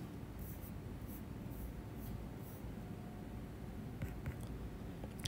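Faint scratchy strokes of writing on a board during a mechanics of materials lecture, a few soft bursts over a quiet room hiss, distant and low in level, with no speech.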